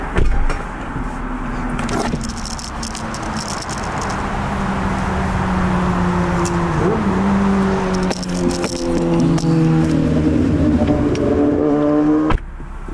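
A car engine revs and climbs in pitch in repeated rising surges. It sounds close and loud over a rattly, noisy background, with no talking.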